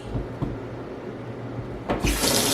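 Very hot tap water runs into a pot while canning strawberry jam, a soft trickle with a couple of knocks before the flow opens up into a louder, steady hiss in the last half second.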